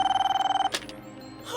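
A telephone rings in short rapid repeated trills for under a second, then stops abruptly with a click and a little handling noise. The setting is a hospital.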